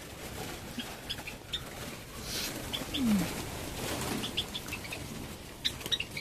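White Java sparrows in a breeding colony with nesting pots give soft, scattered chirps at a distance, faint over a low background hiss, with a short rustle of wings partway through.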